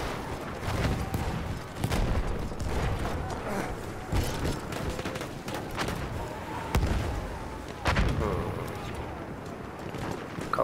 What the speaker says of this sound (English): Grenade out, watch it.